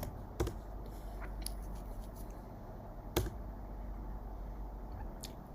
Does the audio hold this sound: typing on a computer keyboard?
yes